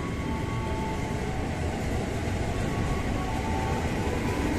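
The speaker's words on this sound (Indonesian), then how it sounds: "Yuk, itu ada kereta." A KRL commuter line train at Klender station in Jakarta gives a steady, moderately distant rumble of rolling rail cars, continuous for the whole stretch with no voices.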